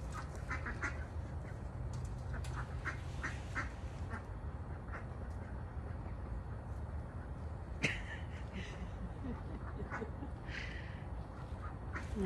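Ducks quack in short, fairly faint bursts at a pond, scattered over a low outdoor rumble with a brief knock partway through.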